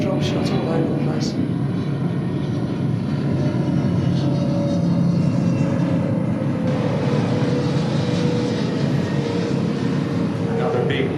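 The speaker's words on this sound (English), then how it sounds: "Another big jumbo jet going overhead" A big jumbo jet passes overhead above a golf course during the Waste Management Open, a broad steady engine roar that fills the whole stretch at constant loudness.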